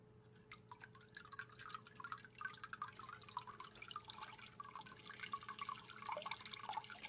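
Water splashes and trickles steadily from a pump outlet back into an aquaponic fish tank, a continuous close dripping and spattering under a low pump hum.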